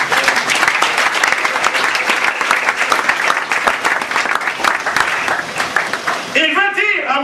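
A church congregation applauds loudly and steadily during a sermon, a thick, sustained wash of clapping that runs for several seconds before a voice rises over it near the end.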